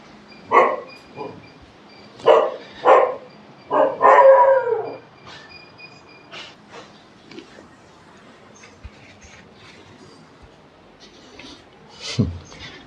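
A dog outdoors near a forest setting barks and yelps in a loud burst of several calls, some drawn out like a howl, then quieter scattered sounds with one final yip.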